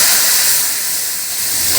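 Tempering for a simple dal crackles in a kadhai, a steady, close, loud sizzling hiss that holds without pause for the whole stretch, with no voices over it.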